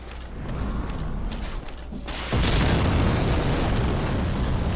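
A fiery explosion in the game Dark Souls erupts as a sudden loud roaring blast midway, jumping from a steady rumbling backdrop into a dense, sustained crackling boom that fills the rest of the moment.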